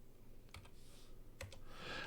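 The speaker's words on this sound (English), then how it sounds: "I'm typing my name." A name is typed on a computer keyboard: two short bursts of quick key clicks, faint and close, over a steady low hum.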